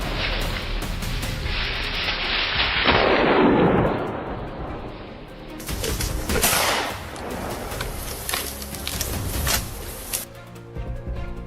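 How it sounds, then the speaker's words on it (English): Heavy gunfire booms and cracks in irregular bursts, loud and echoing, with rumbling blasts and sharp pops layered over one another. "Gunfire erupted from multiple directions in a coordinated assault."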